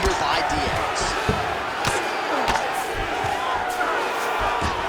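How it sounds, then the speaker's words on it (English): An arena crowd roars steadily through a UFC 5 fight between Khabib Nurmagomedov and Nate Diaz, a loud continuous wash of cheering with sharp thuds and shouts, and commentary voices over it. "the crowd is loving it"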